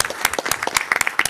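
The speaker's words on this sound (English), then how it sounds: "So let's give them another round of applause" Audience at a school board business meeting gives a brief burst of applause for honored young men, scattered individual claps in a short, close-sounding round.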